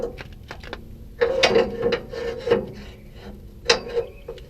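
Grinding, ratcheting metal clicks and rubbing as a tow dolly ramp is tightened down, a few irregular bursts close by with quiet gaps between them and no voices.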